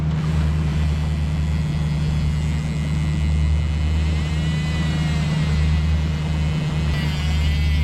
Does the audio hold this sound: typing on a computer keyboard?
no